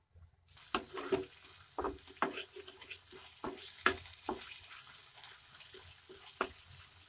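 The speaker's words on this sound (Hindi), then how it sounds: "अच्छी तरह से हम भूनेंगे अभी मसाले को।" Masala with tomato puree being stir-fried for Punjabi chole: a quiet, crackling fry punctuated by repeated sharp spatula taps and scrapes against the pan at an irregular pace, with no voices.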